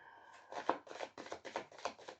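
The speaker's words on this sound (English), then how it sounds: "If you are bored with the shuffling, you can always, you know, go fast forward." Tarot cards are riffled in a quick run of about seven close, crisp shuffling bursts in a steady rhythm, quiet and without speech.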